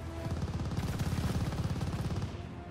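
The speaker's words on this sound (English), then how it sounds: "Somebody got an MG42. Yeah, he laying it down." Rapid sustained bursts of MG42 machine gun fire in the video game Call of Duty Vanguard, a fast even rattle of shots heard alone for about two seconds before fading.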